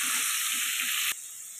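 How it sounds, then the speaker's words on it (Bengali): Potatoes frying in oil with salt and turmeric give a steady bright sizzle that drops abruptly to a quieter hiss near the end, close and continuous with no voices. "ভালো করে ভেজে নেব।"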